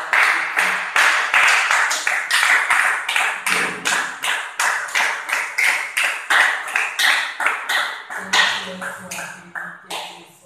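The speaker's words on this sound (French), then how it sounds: "Est-ce que tu peux acclamer pour la gloire" A church congregation claps in steady rhythmic unison, loud and close, with brief calls of acclaim rising over the beat in places.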